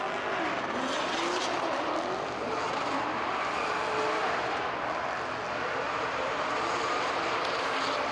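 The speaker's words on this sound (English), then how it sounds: "a quite loud car by Karim Khani as he drove past us back to the pits." A loud drift car at the FIA Intercontinental Drifting Cup qualification in Riga drives past on its way back to the pits, a steady, dense engine roar that holds throughout with no talking.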